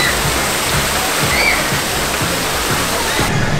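Water rushes steadily at the Rapid River rapids ride in Walibi Holland, a constant broadband roar with faint background murmur of the park.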